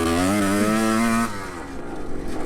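A big bore two-stroke motocross bike engine revs loud and close, a strong buzzing tone climbing and holding for over a second before cutting off, then idling and burbling lower afterward.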